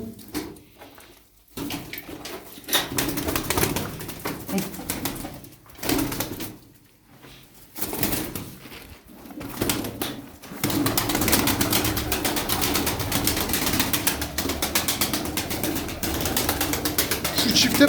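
Pigeons from Rize flutter and coo outdoors as they are let out, bird sounds mixing with clicking mechanical ratchets and faint talk, the level rising into a steady dense wash in the second half.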